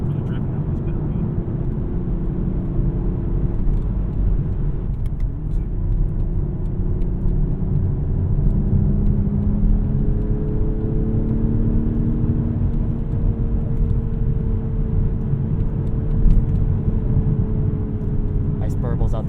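Toyota Supra Mk5 carbon fiber edition engine and exhaust droning steadily while driving on an open road, a continuous loud low hum with shifting engine pitch, heard from inside the car under occasional talk.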